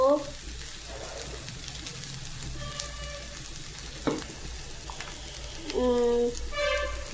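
Garlic-ginger paste and tomato frying in a pan for a bottle gourd and prawn curry: a soft, steady sizzle with a few stirring clinks, while a voice talks over it.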